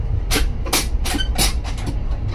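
A train running along rail tracks, heard from on board, with loud repeated clanks and rumbling rolling noise over steady low rail drone; no talking.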